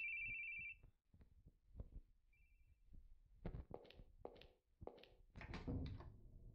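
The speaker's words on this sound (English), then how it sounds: "Oh, no, the cell phone!" A cell phone rings in the horror video game The Boogie Man, a faint electronic trill at the start with a brief repeat, among soft thuds and footstep-like knocks.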